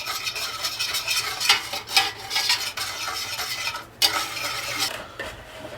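Cocoa powder, cornstarch and a pinch of salt are mixed together in a pot. Repeated scraping and stirring strokes come close up, with sharp scuffs and brief pauses and no talking.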